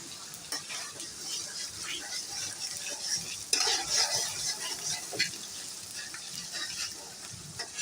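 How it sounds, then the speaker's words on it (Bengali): Fish sautéing in mustard and cumin paste for shorshe ilish hisses and crackles softly at moderate level, with scattered scraping stirs and a brief louder burst near the middle, no voices present. "সরষে বাটা আর জিরা বাটা দিয়ে আমি ভালো করে কষাই নিব।"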